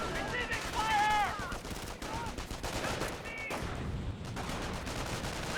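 Gunfire from ground troops in the video game Company of Heroes, a steady rattle of rifle and machine-gun shots under battle noise and voice chatter, moderately distant and continuous.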